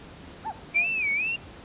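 A toy flower whistle in Harvest Moon: A Wonderful Life gives a short chirp, then a clear, wavering, sustained tone of about half a second, alone against a quiet background.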